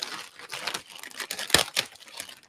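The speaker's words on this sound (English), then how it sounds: "I cut a hole in the bag" Cheap scissors snip a hole in a plastic bag, giving crinkling rustles and a few sharp cuts in quick, uneven bursts close up.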